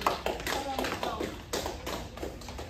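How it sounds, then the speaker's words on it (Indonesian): A brief round of clapping from students in a high school microteaching class, a few seconds of quick, close hand claps with some talking mixed in. "Beri tepuk tangan dulu Mbak Suri"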